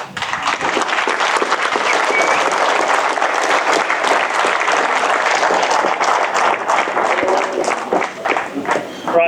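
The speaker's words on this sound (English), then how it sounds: "So round of applause again." Dense, loud audience applause after a talk on black rhino subspecies, sustained and even throughout, with some voices mixed into the clapping crowd.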